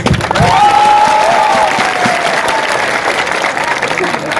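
An audience at a Tipra Motha political rally in Tripura claps loudly in a dense, sustained burst, with cheering voices riding over the applause before it slowly thins out.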